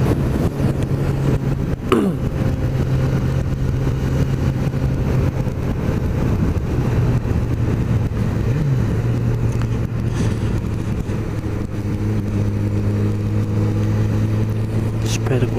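A Yamaha XJ6 motorcycle idles steadily close by, its low engine drone running the whole time with a slight rise near the end, while someone speaks over it.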